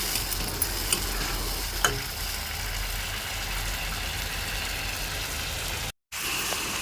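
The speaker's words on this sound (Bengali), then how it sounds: "ভালো করে আবার ভেজে নেব মশলাটাকে, যতক্ষণ না একেবারে জলটা শুকিয়ে যাচ্ছে।" Spice paste for a spicy chicken curry fries in a pan, a steady broadband sizzle with a few faint stirring clinks and a brief dropout near the end, no voices.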